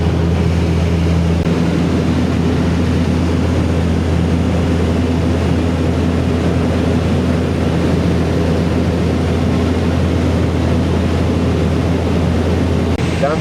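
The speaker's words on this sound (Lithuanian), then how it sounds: "Krato tą mūsų lėktuvėlį." Steady loud drone of a small propeller airplane cabin in flight over Antarctica, shaking throughout, with a constant low engine hum and broadband rush that continues without pause.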